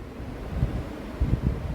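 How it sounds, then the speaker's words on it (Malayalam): Wind blows across green hills and grassy open ground at a hilltop film location, soft low rumbling gusts that swell twice, with no voices. "കാറ്റ്,"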